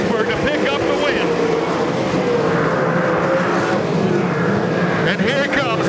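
Race cars on the final lap of a Foothill Thunder sprint car feature, engines droning steadily and loudly from start to finish while an announcer talks over them.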